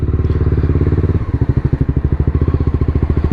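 A Honda CBR 250 motorcycle engine runs close by at a fast, even idle, then the throttle blips and the rhythm turns into strong pulsing revs, loud and alone.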